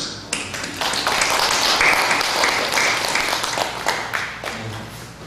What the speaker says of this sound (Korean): 박수 한번 볼까요?